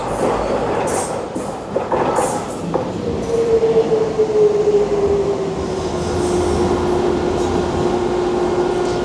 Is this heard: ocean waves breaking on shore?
no